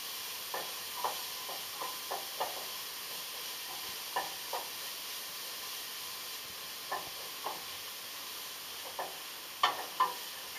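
Bolognese meat sauce fries in olive oil while a spoon stirs it, giving a soft steady sizzle broken by regular scraping knocks against the pan, with one sharper clack near the end and no talking.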